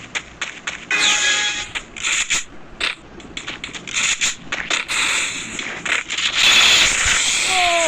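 Rapid gunfire bursts in the mobile shooter Free Fire during a headshot-focused round, sharp cracking shots in quick clusters with mechanical clicks, loud and close, mixed with game effects.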